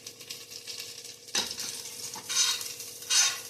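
Ingredients for jackfruit biryani being stir-fried in a pan, with a steady sizzle and close, repeated scraping and stirring strokes that come in louder bursts, no voices.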